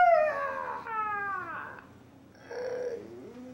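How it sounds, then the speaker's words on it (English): A claymation sea monster lets out a long howling roar, wavering and sliding downward in pitch, then a second rising, wailing cry after a brief lull, loud and close with no talk. "the monster, with a howling roar,"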